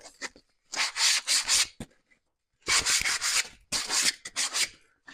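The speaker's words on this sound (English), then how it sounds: "Just use 100 grit sandpaper. Just doesn't take much to get them off." Hand sanding of wood boards with 100 grit sandpaper, taking off raised fibers from planed stock: a few bursts of dry rasping strokes close up, each run of back-and-forth rubbing separated by short pauses, with no talk.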